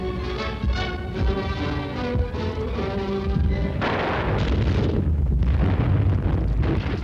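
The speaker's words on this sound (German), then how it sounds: "Von allen Waffen wird der Stoßtrupp plötzlich unter Beschuss genommen und restlos aufgerieben." Defensive weapons fire on a British assault troop during the 1944–45 fighting in the West: dense, continuous rumbling bursts of gunfire and explosions with a loud, heavy roar, with no speech.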